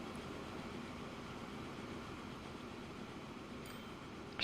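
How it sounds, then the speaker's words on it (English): Steady rumble of a train running in the railway simulation game Transport Fever 2, on a UK Great Western Main Line route, a continuous even roar holding at moderate level throughout, with a brief louder burst right at the end. "This train is still going."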